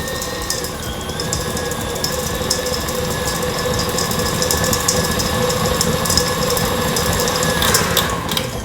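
A KitchenAid stand mixer churns dog food batter at a higher speed, a constant close whirring motor drone with rhythmic mechanical clatter and a high whine that shifts pitch slightly, no voices.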